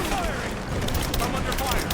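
Gunfire rattles through a firefight in the video game Rise of the Tomb Raider, a dense, continuous burst of shots mixed with game noise across two seconds.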